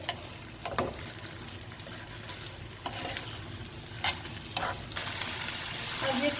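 Chicken pieces fry in a pan, a steady sizzle punctuated by several scraping stirs, with the hiss swelling louder toward the end.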